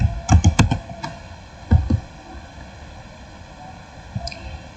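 Quick clusters of keystrokes tap on a computer keyboard while network switch VLAN commands are entered, fairly close and light, with a pause before a final few clicks over a steady background hum.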